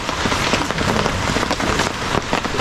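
Steady rain pours down at a hammock camp beside a flowing spring near the sea in Bani, Pangasinan, a dense, continuous patter drumming on nearby surfaces without a break and no voices.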